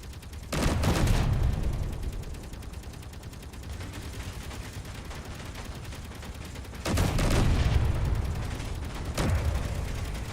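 Artillery fire in the Volsung Origins strategy game, three loud booming bursts with clattering mechanical tails, separated by a quieter low background hum, without talk.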